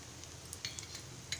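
Besan pola batter sizzles softly in oil on a hot griddle, a steady quiet frying hiss broken by a few small crackling pops and light clinks of a utensil.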